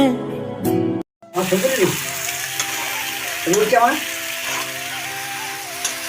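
Chicken kosha, spiced chicken meat, sizzles and fries steadily in a pan while being stirred, a close, continuous crackle running under a person talking.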